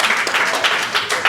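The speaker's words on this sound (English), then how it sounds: "Round of applause." An audience at a coaching talk gives a short, dense round of clapping, loud and close, with overlapping hand claps throughout.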